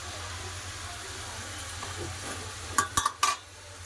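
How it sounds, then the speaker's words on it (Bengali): Bottle gourd, cooked with a fish head, is stir-fried in a pan with a faint, steady sizzle, then a quick cluster of three or four sharp spatula scrapes and knocks near the end. "লাউ ভালো করে কষে নিয়েছে"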